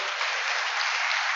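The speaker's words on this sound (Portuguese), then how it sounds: "Uma salva de palmas aos nossos visitantes." A congregation at a church service claps to welcome visitors, producing a brief, even wash of applause with a slightly muffled, band-limited tone.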